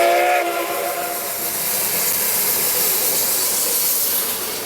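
Steam locomotive run by RENFE threading through the Vigo docks on little-used waterfront track, its steady loud hiss of steam filling the scene, with a brief whistle-like tone at the very start.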